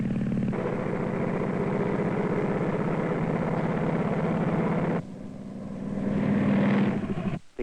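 A loud, steady engine drone with a low rhythmic propeller-like throb, cutting off abruptly then swelling again briefly near the end.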